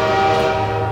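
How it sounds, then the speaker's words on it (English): In Half-Life 2 a train runs past with a continuous, close, fairly loud droning rumble and sustained tonal hum, with no voices. "So just wait for this train to come by"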